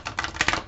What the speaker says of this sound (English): I am going to shuffle and pick you an Angel Oracle card